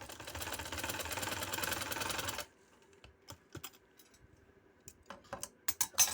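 Electric sewing machine stitching a seam along a marked line on a shirt neck, a steady dense mechanical whir for about two seconds, then stopping into quiet with scattered small clicks and handling taps.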